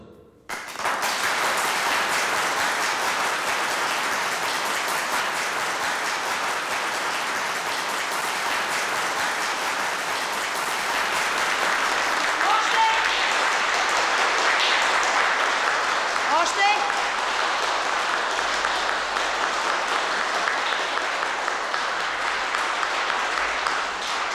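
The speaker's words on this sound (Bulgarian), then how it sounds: "Ръкопляскането, сега трябва да ви заболят ръцете" A crowd of film extras applauds on set, dense sustained clapping that goes on steadily for a long stretch, with a voice talking over it.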